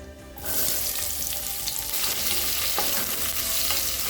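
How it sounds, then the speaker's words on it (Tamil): Long-sliced onion hits hot oil in a pressure cooker with bay leaves, cinnamon, cardamom and fennel, bursting into a loud, close, continuous sizzle that holds steady. "நீளமாக நறுக்குன்னு ஒரு வெங்காயத்தை சேர்த்துக்கலாம்."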